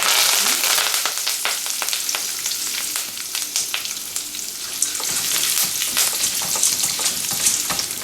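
Curry leaves fry in hot oil in a pan, giving a steady, loud crackling sizzle with frequent sharp pops spread throughout, close by and without any voices.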